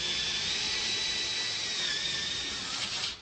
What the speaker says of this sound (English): drills the hole for the magnet, and secures the magnet in place with sealant